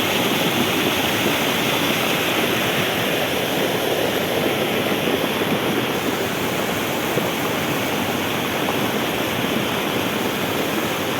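Mountain stream water rushes past a bridge as a constant, dense broadband roar, loud and unbroken throughout.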